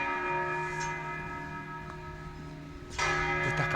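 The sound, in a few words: church bells ringing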